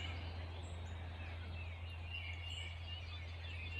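Morning birds at sunrise in May, faint scattered chirps and calls over a steady low hum and outdoor background, distant and continuous with no talking.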